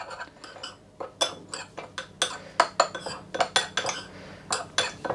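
A spoon briskly mixes a dry rub of paprika, smoked paprika and garlic granules in a bowl, giving rapid, close, irregular clinks and scrapes against the bowl.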